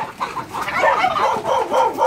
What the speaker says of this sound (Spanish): Ese gran gallo.